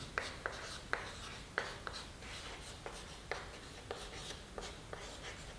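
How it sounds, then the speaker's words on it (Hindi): Chalk or marker writing out a physics example on a board produces quiet, close scratching strokes with regular sharp taps, set against a steady hiss of room noise. "उदाहरण एक लिख रहा हूं यहां पे"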